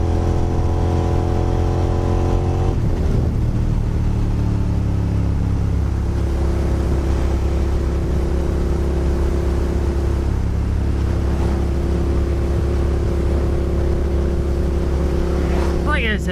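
A motorcycle engine revs and drops as the throttle is worked through clutch shifts, loud and close, with rising and falling engine tones and a brief lull before the pitch climbs again.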